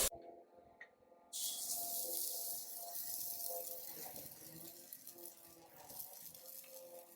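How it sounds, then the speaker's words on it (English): A metal turner scrapes leftover crud off a heated Weber griddle plate, a close, steady rasping scrape with short pauses and a few light clinks. "scrape some of the crud off it that was left over from last time"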